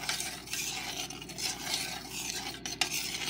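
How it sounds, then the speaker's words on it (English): A spoon stirs sweetened chai in a pot, a continuous close scraping and swishing with faint sizzling underneath and a couple of brief clinks near the end, no talking. "Just stir."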